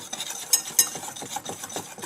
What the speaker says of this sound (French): Je vais mélanger ces poudres pendant quelques secondes.